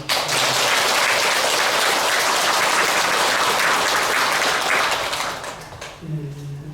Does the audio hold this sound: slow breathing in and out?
no